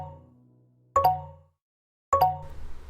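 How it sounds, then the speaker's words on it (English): A phone notification chime sounds twice, each a clear bright plop-like tone about a second apart, with a low hum fading out before the first. "Notification. Movement detected in living room."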